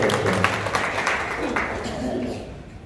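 An audience claps to welcome the chief guest at a Jhalkari Bai birth anniversary event, and the steady, moderately loud applause carries under a voice speaking over a microphone.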